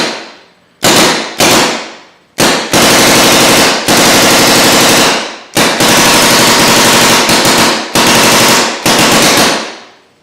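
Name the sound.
Ego 7 paintball marker firing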